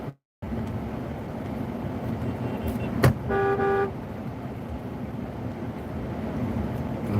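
A car horn sounds in a line of cars driving in tandem: one brief honk around midway through, then a longer steady tooted tone over constant road and engine noise, with no talking.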